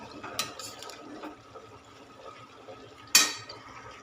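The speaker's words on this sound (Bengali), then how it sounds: "দিয়ে এটা নাড়িয়ে চাড়িয়ে নেব।" Food is stirred in a pan with soft scraping and shuffling, punctuated by two sharp clinks of utensil on metal, all fairly quiet and close, with no talk over it.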